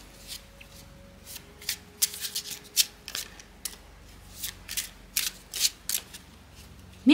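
Tarot cards are shuffled by hand in a series of crisp riffling bursts, close and fairly loud, with short pauses between them and a soft background hum.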